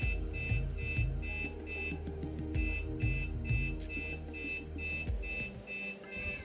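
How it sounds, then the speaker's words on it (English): Steady electronic alert beeping from fence post installation self-alignment equipment, signaling an axis value out of range, repeats in regular pulses, bright and insistent, over a low background hum with some knocking noises. "it's still beeping because the first axis value is out of range"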